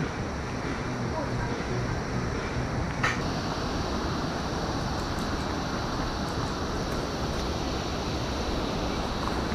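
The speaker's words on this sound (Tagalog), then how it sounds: "Rinig ko na yung alon." Constant broadband roar of ocean waves and wind at Dingalan, Aurora, Philippines, fairly distant and washing steadily without pause, with a brief knock partway through.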